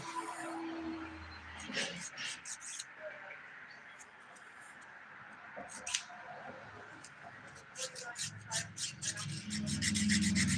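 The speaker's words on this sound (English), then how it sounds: "I'm doing my usual filing, starting up top at the cuticle, coming down the sidewalls." A nail file rasps across fingernails from cuticle down the sidewalls during a dip powder manicure, with short scratchy strokes that come in bursts and pauses, close and fairly quiet.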